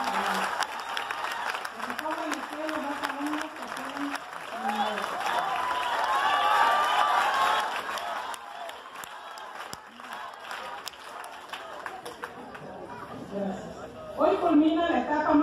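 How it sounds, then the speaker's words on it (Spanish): Audience at a school graduation ceremony applauding and cheering, a broad crowd wash that rises and falls, with voices shouting and talking over it. "Quiero brindarles un fuerte aplauso y que se levanten las manos."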